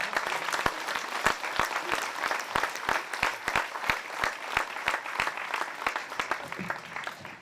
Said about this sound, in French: vous les applaudissiez fortement